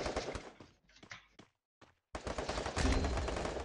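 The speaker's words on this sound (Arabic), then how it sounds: "اضربوا بالدراجونوف، اضربوا بالدراجونوف" Free Fire video game Dragunov sniper rifle fire: a few sharp shots with short pauses, a brief silence, then heavy, sustained gunfire. Close and loud.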